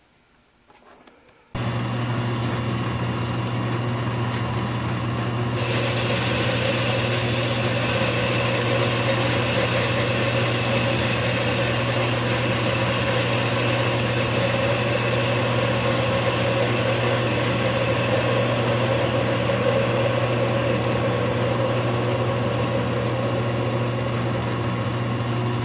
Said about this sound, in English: So let's go back over to the lathe and start cutting.